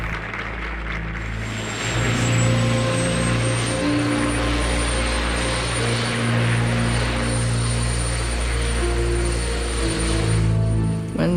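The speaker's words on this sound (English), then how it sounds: "When Nixon boarded the helicopter, I was glad to see him go." A helicopter carrying Nixon takes off, its rotor and engine a loud, sustained throbbing roar close by, with a high turbine whine rising and the noise holding steady throughout.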